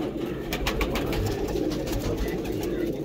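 Home-bred high-flying pigeons coo in soft, repeated low murmurs, several birds close by, with light rustling and faint background chatter.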